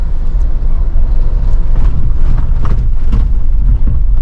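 A car engine runs in third gear just after a downshift from fourth while driving downhill in city traffic, a loud, steady, low cabin drone with a rough rumbling texture.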